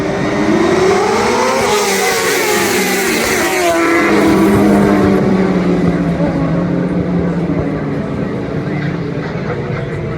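Race cars on a UK road circuit, engines rising and falling in pitch as they pass at close range, loud and continuous, with a roaring swell mid-clip that gradually tapers.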